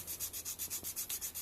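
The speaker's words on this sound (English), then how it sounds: "sanding tool" Rhythmic back-and-forth rasp of hand sanding an aulos reed cap with a fan-shaped sanding tool, about ten even strokes in quick succession, close and fairly quiet.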